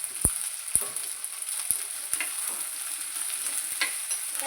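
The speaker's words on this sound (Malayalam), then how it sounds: "ഇതിനകത്തേക്ക് ഇഞ്ചി, ഉള്ളി, പച്ചമുളക്, കറിവേപ്പില ഇട്ട് നന്നായി വഴറ്റി കൊടുക്കാം." Ginger, onion, green chili and curry leaves sautéing in a pan, a constant bright sizzle with several sharp scrapes of a spoon, close by and with no voices.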